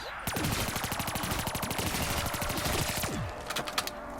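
Rapid automatic gunfire from a Pack-a-Punched wall weapon in Black Ops 3 Zombies on The Giant map: a loud, sustained stream of shots for about three seconds, then a few scattered shots.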